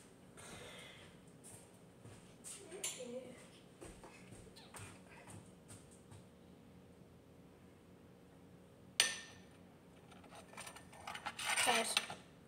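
Metal cutlery clinks and rattles as a spoon is fished out in a kitchen, with light scattered taps, a sharper clatter near the end, and some soft rustling in between.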